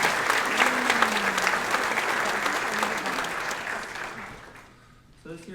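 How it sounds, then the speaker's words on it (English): Applause from an audience at a school awards night, a dense, steady wash of clapping that holds for several seconds, then fades into quiet near the end while a brief voice cuts in. "So please give them a round of applause."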